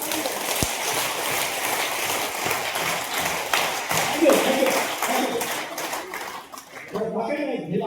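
A crowd claps in a dense, sustained patter that tapers off, with voices rising near the end.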